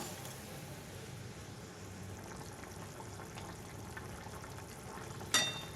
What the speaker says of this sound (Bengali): ঝোলের সাথে মাছগুলো আমি 2 মিনিটের মতো একটু ফুটিয়ে নেব